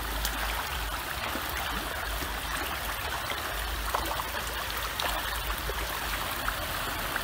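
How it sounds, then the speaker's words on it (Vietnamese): A water pipe pours continuously into a climbing perch fish pond on a farm in Tay Ninh, Vietnam, a steady splashing gush at constant level with no talk. "có một cái ống nước đang xả nước xuống 24/24"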